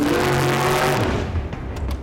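An 800 horsepower car launches down a quarter-mile straight with loud engine roar and rising revs that sweep past and fade, leaving tyre and mechanical rattles near the end.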